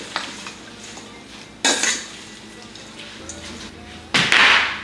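Salad being tossed and folded in a bowl, with sharp clattering bursts of utensils against the dish, one near the middle and a louder one at the end, separated by quieter stretches of light handling.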